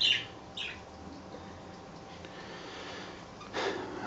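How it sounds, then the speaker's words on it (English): A budgie gives a few faint, high, brief chirps near the start and again near the end of a quiet indoor stretch. "And that's Buck the Wonder Budgie."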